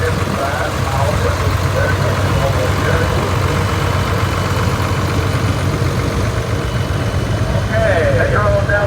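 A 1955 Oliver model 1955 tractor idles steadily in a parade at the National Oliver Show in Boonville, Missouri, a continuous low engine rumble, with an announcer speaking over it.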